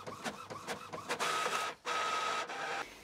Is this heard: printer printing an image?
yes